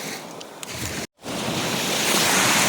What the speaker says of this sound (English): the waves have gotten a little bit bigger